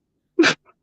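A single close sneeze, short and sharp, bursts out on its own, followed by a couple of faint, brief trailing sounds.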